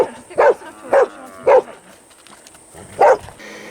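A herd dog on a dairy farm barks four times in sharp, separate woofs with short pauses, close and loud, with quiet background between barks.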